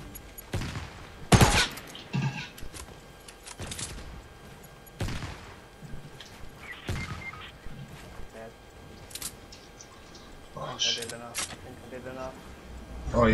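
Gunfire in the video game Fortnite, with several sharp loud shots spaced irregularly across the stretch, mixed with other game effects and a few vocal sounds.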